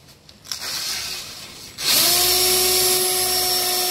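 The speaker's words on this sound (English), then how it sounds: "I'll start to spin the drill" A power drill spinning a wooden arrow shaft for tapering whirs to life after a brief click, then spins steadily at a high, loud, even pitch.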